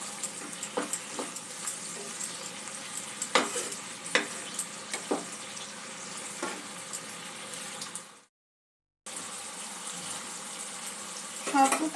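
Sweet and sour chicken simmers in a pan with a soft, steady bubbling and sizzle, broken by scattered stirring clicks and a brief cut to silence near the end before it resumes.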